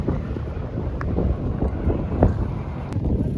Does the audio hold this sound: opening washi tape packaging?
no